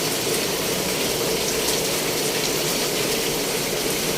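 Heavy rain and floodwater on a Manila street form a loud, steady, unbroken wash of rushing water and downpour noise with no pauses and no voices.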